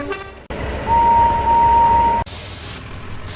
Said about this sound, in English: The diesel honked his horn when he was ready.